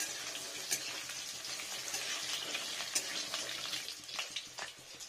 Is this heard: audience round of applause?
no